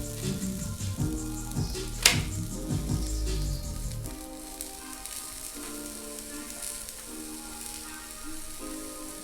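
An egg frying in a pan, sizzling loudly at first with a sharp clatter, then settling into a softer, steady crackle and hiss, close by with no talking.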